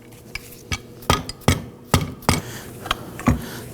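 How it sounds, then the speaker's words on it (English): Repeated dull thuds of a rubber mallet striking a power steering pump on a 2005-2009 Subaru Legacy 2.5L H4, about a dozen irregular knocks, close and fairly loud with short gaps between them. "Now I am using a rubber mallet."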